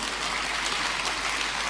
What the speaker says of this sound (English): Everybody is clapping.